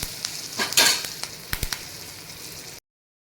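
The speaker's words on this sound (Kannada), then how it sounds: "ಚೆನ್ನಾಗಿ ಫ್ರೈ ಮಾಡ್ಕೊರಿ ಇದನ್ನು." Turmeric powder fries in hot oil in a pan, a soft sizzle with a few sharp clicks and scrapes of stirring, close and brief before cutting to silence.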